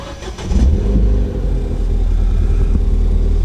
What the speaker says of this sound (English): And that's it, car is started.